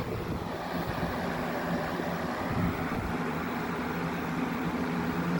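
A Shinic box fan runs on high speed after being caught in a rainstorm, giving a steady broadband whooshing rush of air that stays even and moderately loud throughout with no pauses.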